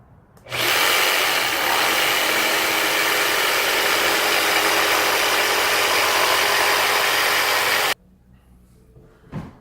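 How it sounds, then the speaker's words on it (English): A jigsaw cutting wood trim, starting abruptly into a loud, steady rasping saw roar that holds for about seven seconds and then stops, leaving quiet handling noise afterward. "We'll go ahead and get that cut out with the jigsaw."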